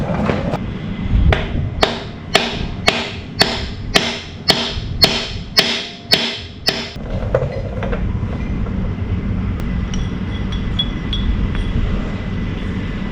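A dozen sharp metallic hammer strikes ring out in a steady rhythm, close and loud, knocking a part out of a Camaro, followed by a quieter stretch of faint clinking.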